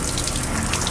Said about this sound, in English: Everybody that comes in takes a shower.